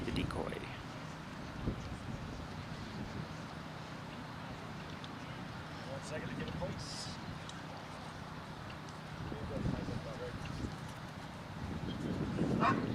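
A protection dog barks intermittently during an attack-on-handler exercise at a national trial, distant and faint against a noisy outdoor background, with a voice speaking over it.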